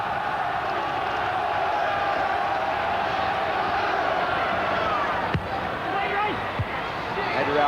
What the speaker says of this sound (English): I don't think I've been at a match this season where there's been so much noise from the crowd.